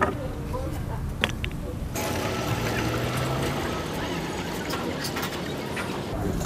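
Water poured into a homemade tippy tap container, a continuous rushing pour that starts abruptly partway through and runs steadily to the end, fairly loud and close.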